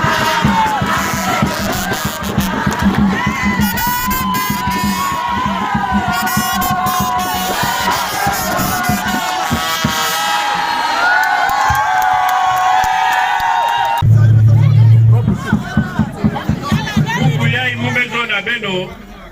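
A gathered crowd at a youth centre in Dolisie cheers and applauds for a visiting minister, a loud continuous roar of clapping and shouting close by, with voices mixed in throughout.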